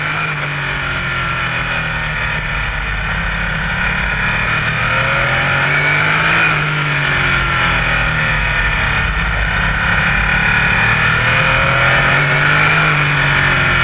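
Onboard a Radical race car during a race, the engine roars continuously up close as the driver works the throttle, with the pitch rising and falling as he goes on and off the gas.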